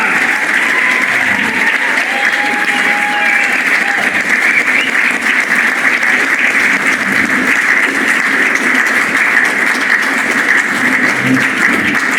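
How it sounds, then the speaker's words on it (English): An audience applauds a choir taking the stage, with dense, steady clapping that holds at full volume for the whole stretch. "Give them a big round of applause"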